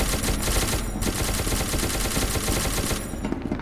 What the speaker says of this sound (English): They're shooting boys in orange.